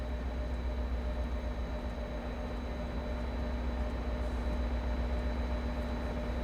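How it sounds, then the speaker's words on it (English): A diesel train engine idles nearby in the Train Sim World 2 game, a steady low rumble with a constant droning hum that holds level throughout, with no talking. "I'm liking the sound of that diesel by the side of me though."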